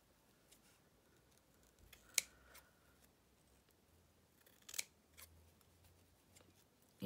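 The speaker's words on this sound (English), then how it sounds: "So you just keep snipping away." Scissors snip through tulle fabric in a quiet room, a couple of sharp close cuts and a few softer snips spread out over several seconds.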